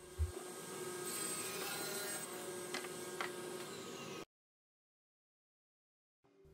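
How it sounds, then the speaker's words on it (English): A sander working the rounded-over edge of a wooden platform bed panel, a steady whirring drone with rasping texture for about four seconds, then cutting off into silence before a faint sound returns. "Of course, after this I had to re-round over that edge and do a little bit more sanding."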